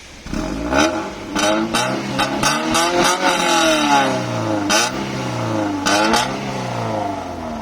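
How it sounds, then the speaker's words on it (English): A Toyota Altezza RS200 with a resonator exhaust revs repeatedly up close, rising and falling in sharp bursts with a raspy, throaty exhaust note between idle passages. "Now it just has a resonator and no cap. And this is what it sounds like."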